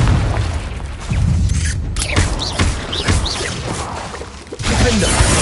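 A Confringo blasting spell goes off in the video game Hogwarts Legacy, with loud booming explosions, crashes and whooshing hits among busy combat sounds, close and forceful.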